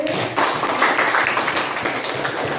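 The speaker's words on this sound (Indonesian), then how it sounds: "tepuk tangan untuk kelompok C" Brief burst of clapping from a training group at an on-the-job teaching session, dense and steady across a couple of seconds, fairly close and loud with no talk over it.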